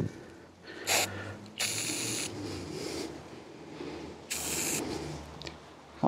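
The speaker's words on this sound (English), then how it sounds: "just spray a bit of penetrating oil" An aerosol can of penetrating oil is sprayed onto the handlebars of a Royal Enfield Meteor 350 motorcycle in a few short, sharp hissing bursts, with quiet shuffling between them.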